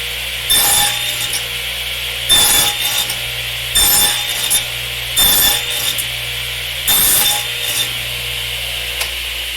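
Power saw cutting a half-inch slot in wood in a workshop, five evenly spaced loud bursts of rasping cutting over a steady motor hum, with no speech.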